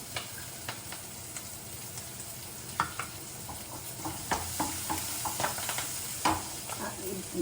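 Curry leaves and asafoetida fry in hot oil for a Telugu amaranth and moong dal curry, giving a steady soft sizzle with scattered crackles and pops near the pan and no voices.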